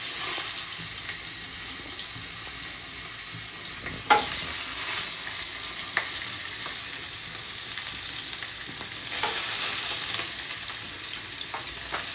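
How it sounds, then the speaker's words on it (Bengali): A fish head fries in hot oil for a Bengali muri ghonto, giving a steady, dense sizzle and crackle throughout with a few soft knocks and stirs, and no talking. "মাথাটা ভাজা হয়ে গেছে মাছের"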